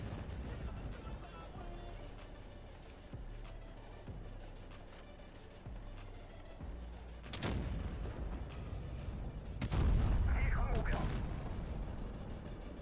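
Several heavy booming tank cannon shots in World of Tanks Blitz ring out, with two loud blasts standing out near the end over a continuous low rumble.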